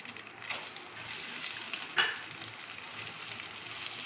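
Soaked mung dal sizzling as it hits hot oil for khichuri, a soft continuous fry with a brief sharp clink of a utensil midway, fairly faint and without talk.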